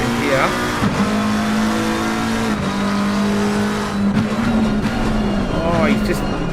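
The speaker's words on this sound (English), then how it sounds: "he's just braked himself and locked him up" Race car at the Bathurst 1000 brakes hard and locks its wheels, heard on board as a steady engine drone with brief tyre squeals and downshift blips, while a commentator talks over it.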